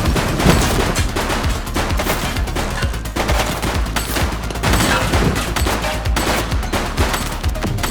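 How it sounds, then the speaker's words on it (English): Rapid, sustained gunfire in the police video game The Precinct, dense overlapping shots and bursts throughout the clip, loud and close, with no talking. "He's shooting!"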